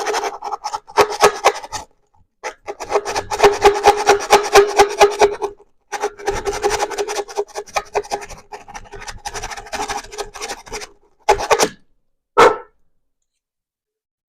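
PVC pipe being sanded by hand with sandpaper wrapped around a round object, rapid raspy back-and-forth scratching in bursts separated by short pauses, close and fairly loud.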